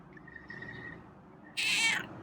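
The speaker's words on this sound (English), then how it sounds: "Okay, that's a meow." A single cat meows once, short and fairly loud, near the end after a quiet stretch in an indoor room.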